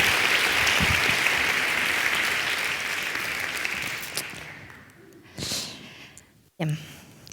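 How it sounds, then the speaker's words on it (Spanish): A science event audience bursts into full applause that fades out gradually over several seconds, followed by a couple of short bumps and a breath near the microphone. "¡Un aplauso!"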